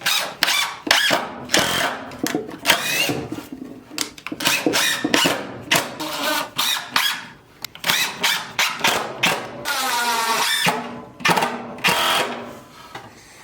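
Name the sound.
screwing a board down into wooden router jig box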